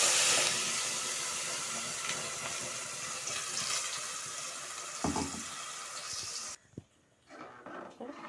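Water pours steadily into masala for chickpea curry in a hissing, splashing stream for several seconds, then stops abruptly, followed by a few soft clinks.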